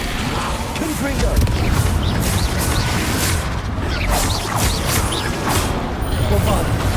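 Repeated Confringo blasting-spell explosions in Hogwarts Legacy, a busy run of booms, crackles and whooshes amid constant combat noise, with a voice calling out spell names over it.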